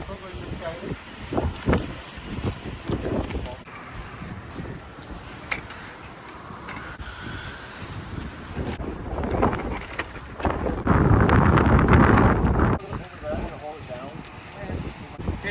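Strong wind on Gilgo Beach, Long Island, buffets the microphone in gusts, roaring loudest near the end, while people talk intermittently at a beach campsite.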